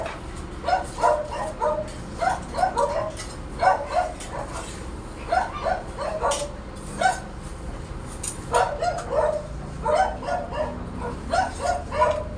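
A dog barks repeatedly at a house, in sharp bursts of two or three yaps with short pauses between them, at moderate distance and with no talk over it.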